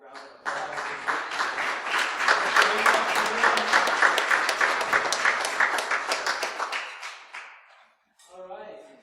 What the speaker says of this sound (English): And if you could, just a quick round of applause.